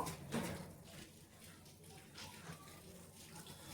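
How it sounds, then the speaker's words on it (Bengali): Water poured onto puffed rice (muri) in a home kitchen, a soft, faint splashing trickle that swells briefly at the start and then settles into a low, steady wash. "এবারে মুড়িটার মধ্যে আমি ঢেলে দেব জল"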